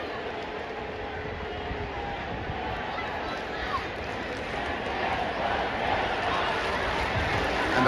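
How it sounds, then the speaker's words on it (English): Dense crowd roar at a Boston Red Sox baseball game against the Milwaukee Brewers at Fenway Park, steady and broad, swelling slightly louder toward the end with no distinct claps standing out. "And the crowd is now alive."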